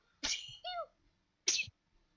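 A person sneezes twice in quick succession, close to the microphone in a quiet room, with a short pause between the two sharp bursts.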